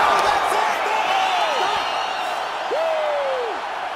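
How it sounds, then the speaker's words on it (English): Arena crowd cheering in EA Sports UFC 5 after a fight-ending shot, a loud, continuous roar with whoops rising over it, under a commentator's voice. "Yeah, man, crowd loving it."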